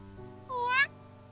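A kitten gives a single clear, rising meow, close and moderately loud, over a soft sustained musical backdrop.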